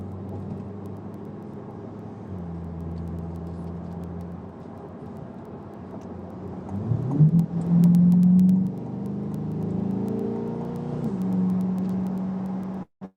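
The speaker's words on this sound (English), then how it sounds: "how well can you guys hear the road noise and engine and all that" Steady engine drone and tyre road noise inside a moving Chevrolet C8 Corvette, a continuous low rumble with a brief louder surge of engine revving midway, no talking.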